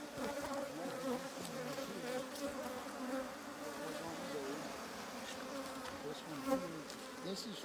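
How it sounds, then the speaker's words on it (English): Africanized hybrid honey bees buzzing inside an opened hive box, a continuous, wavering hum of many insects, fairly faint and steady with no talking. "I'm not going to worry about bees in this box. You're gonna take bees from another box."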